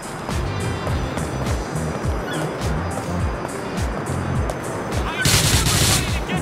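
Gunfire crackles through a mission in GTA 4: The Ballad of Gay Tony, with close, loud shots in a rapid, uneven run of bursts and a harsher blast of noise near the end.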